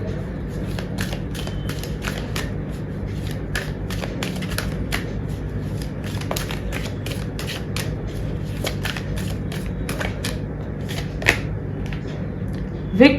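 Tarot cards being drawn and handled, a run of crisp, close card snaps and flicks repeating through the stretch, with a faint steady room hum underneath and an occasional sharper tap near the end.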